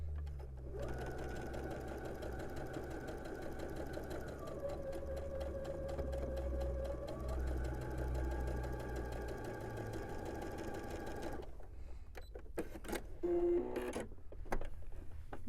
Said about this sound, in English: I'm not going to turn my fabric. I'm going to sew against this.